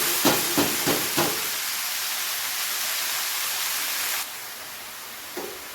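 Red spinach lands in hot oil with fried garlic and dried chilli, opening with a few sharp crackling bursts that settle into a loud, steady hiss, which drops away abruptly near the end.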